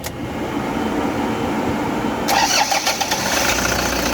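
A Toyota Hiace van with a starting problem cranks and its engine catches, turning over briefly before settling into a steady mid-pitched idle, close by and without talk.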